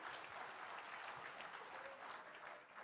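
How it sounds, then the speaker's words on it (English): An audience at a World Tourism Day gathering applauds: a faint, even wash of many hands clapping together from a distance, sustained for about three seconds without pauses. "You're allowed to applaud."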